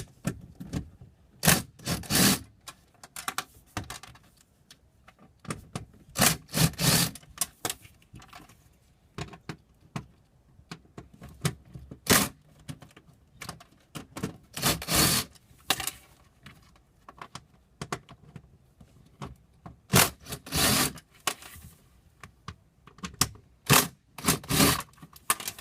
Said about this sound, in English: 10mm bolts that we'll go ahead and remove at this point